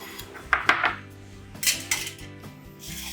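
Ceramic plates and cutlery clink and clatter in a few sharp bursts at close range as a restaurant dish of grilled lamb sweetbreads with leek terrine, yellow trumpet mushrooms and onion toffee is plated.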